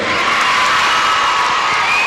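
Audience at a French spelling contest in Bamako gives a contestant a loud, dense roar of applause and cheering, steady and close throughout with no pauses.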